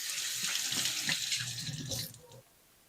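Tap water runs steadily into a kitchen sink as herring is rinsed off under it, a broad continuous rush that tapers and cuts off near the end, with no talking.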